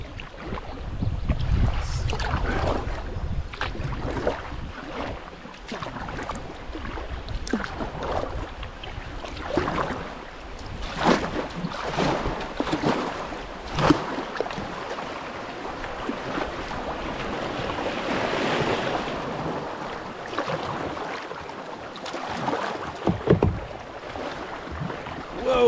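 Shallow, fast water rushes over a riffle on Sugar Creek around a kayak, a steady broadband wash with scattered splashes and paddle knocks, fairly close and continuous without talk.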